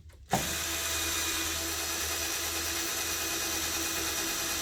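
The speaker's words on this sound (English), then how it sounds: "I'm just going to hold it up and drill it." A power drill with an old bit drills double-walled metal on a 1968 Chevrolet C10 truck, whirring steadily and close by after a brief quiet start, a continuous grinding drone with a faint high mechanical whine throughout.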